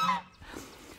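A single short honk from a goose at a pond, close by and fairly loud, fading quickly.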